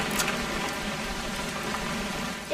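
Steady, even rain hissing across the whole stretch in the video game What Remains of Edith Finch, a dense wash of drops falling on a surface with no voices.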